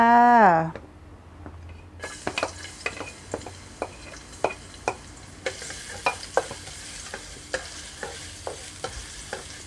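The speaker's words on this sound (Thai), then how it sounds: "น้ำมันร้อนแล้วก็เอากระเทียมลงค" Chopped garlic hits hot oil in a wok for a pork and egg stir-fry, a steady close sizzle punctuated by a dozen sharp scrapes of a spatula in a quick, uneven stirring rhythm, after a brief voice at the start.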